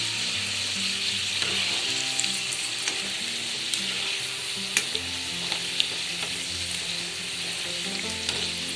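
Wheat flour spicy diamond-cut snacks frying in hot oil give a steady, dense sizzle and bubbling hiss throughout, close and continuous with occasional faint pops, no voices.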